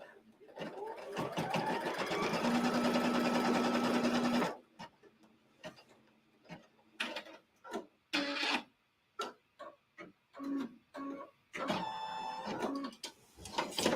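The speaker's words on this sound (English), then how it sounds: "it's going to stitch step 2 on your machine with the placement, what we call the trimming and placement outline" An embroidery machine sews a trimming and placement outline for a Halloween haunted-house quilt block. It makes a loud, steady, fast mechanical whir for about four seconds, then stops, and intermittent speech and short bursts of stitching follow.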